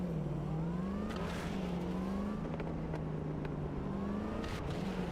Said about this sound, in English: I love that, like, supercharger whine it's got.